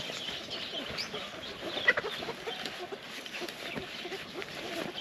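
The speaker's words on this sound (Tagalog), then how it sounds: "Yang manok." Chickens cluck softly and intermittently at a moderate distance outdoors, with faint background noise and low voices nearby.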